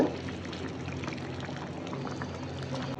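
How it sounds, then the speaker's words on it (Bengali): Continuous gurgling pour of hot water into a hot, bubbling pan of ridge gourd and potato, steady and close throughout, with no speech. "এখন আমি একটু গরম পানি দিয়ে দিব"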